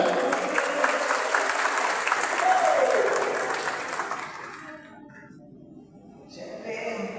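Drivers applauding at a morning gathering, a burst of clapping that fades over several seconds before a brief pickup at the end.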